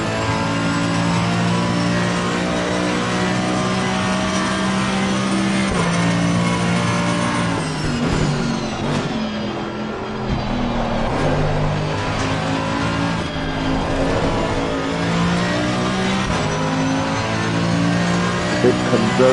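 A racing car engine drones through a practice lap in the FIA Motorsports Games 2022 racing game, a steady, loud, buzzing whine that shifts pitch with gear changes and revs throughout.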